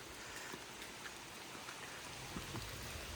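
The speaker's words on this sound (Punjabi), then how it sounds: "ਮੀਂਹ ਲੱਗਿਆ ਹੋਇਆ ਹੈ ਇੱਥੇ" Steady rain falling continuously, a dense even hiss with scattered drops, no voices.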